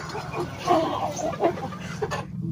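Faomi chickens cluck and murmur close by while being fed finely chopped grass, soft repeated calls layered over a low steady background hum.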